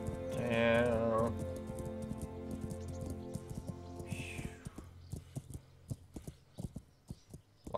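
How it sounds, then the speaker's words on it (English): Horse hooves beat in the video game Kingdom Come: Deliverance. A steady run of sharp hoofbeats comes through clearly after a stretch of tonal music and a brief snort-like sound. "The horse is doing all the running"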